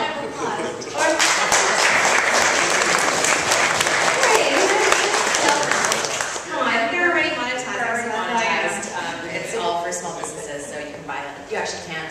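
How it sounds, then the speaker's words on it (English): Audience applause for speakers at a panel discussion, a full burst of clapping for about six seconds that thins out, then a person talks over the last scattered claps. "Let's give them another round of applause."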